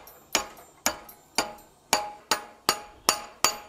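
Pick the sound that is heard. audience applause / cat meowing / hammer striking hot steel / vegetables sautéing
hammer striking hot steel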